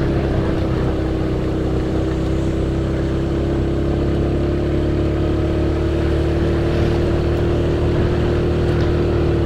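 A motorcycle engine drones steadily and loudly as it labours up a steep, smooth mountain road from Kopeng, Salatiga, toward Muntilan, Magelang, holding a constant strained hum with wind noise throughout.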